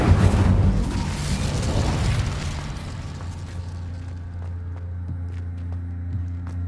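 The Incendio fire spell bursts out in Hogwarts Legacy as a loud, booming whoosh of flame that slowly fades into a low humming game ambience.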